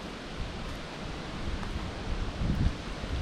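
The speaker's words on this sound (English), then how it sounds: "it's really windy today" Steady broadband wind roar buffeting outdoors on Sawbill Lake, with low rumbling gusts swelling toward the end; no voices.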